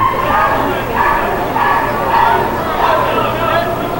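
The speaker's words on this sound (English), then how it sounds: "Is that a real dog barking, or is that a sound effect?" A dog barks repeatedly at a minor-league baseball game between the York Revolution and Somerset Patriots, steady yips under crowd chatter and nearby talk.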